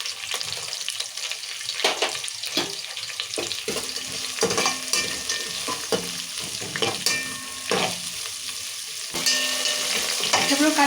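Whole garam masala, coarsely pounded, dropped into a hot frying pan for bagara rice, crackling and sizzling steadily while a spoon stirs and scrapes in irregular bursts, close and fairly quiet, with no talking.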